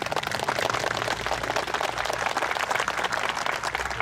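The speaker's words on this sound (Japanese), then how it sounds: "皆さん拍手をお願いいたします。" Audience applause at an event at the Tokorozawa Aviation Museum, honoring a former Zero fighter pilot; steady, dense clapping from a sizable crowd, continuous and fairly even throughout.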